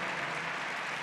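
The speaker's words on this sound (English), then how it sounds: "I think we owe them a round of applause." A convention audience applauds steadily, a dense wash of many clapping hands filling a large hall without a break.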